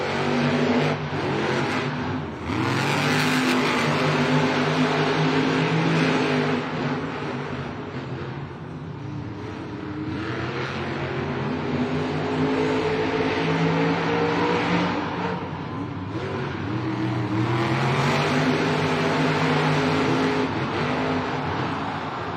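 Monster trucks race at a Monster Jam stadium event in Anaheim, their big engines roaring and revving in rising and falling waves, loud and continuous amid crowd noise, with a brief surge of hissing burst near the start.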